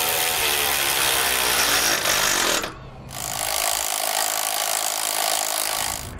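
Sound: tightening trailer jack hardware with socket and wrench

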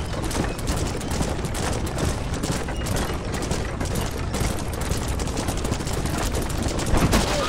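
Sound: gunfire from the video game Red Dead Redemption

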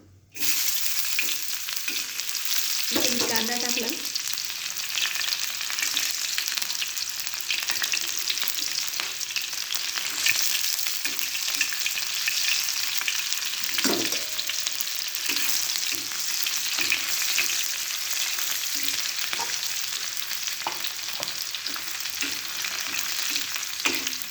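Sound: frying in hot oil, onion browning

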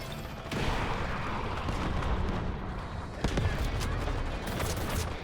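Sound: gunfire in a video game

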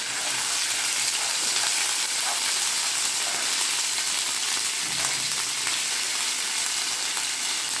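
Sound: ginger paste frying in oil

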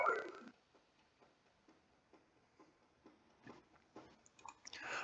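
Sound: dog chewing a bone

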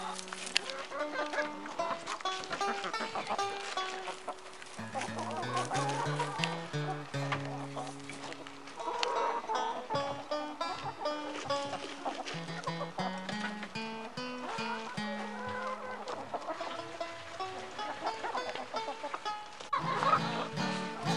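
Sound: chickens clucking

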